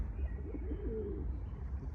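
Low, soft cooing of pigeons nearby in a botanical garden in Kyiv, a few murmuring calls over a steady outdoor rumble.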